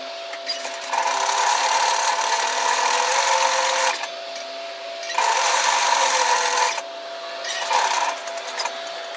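A sewing machine runs long stitches along a tiered dress in three steady bursts, with short pauses between them, close and fairly loud.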